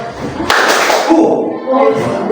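A couple of sharp hand claps ring out close by, with a voice speaking around them.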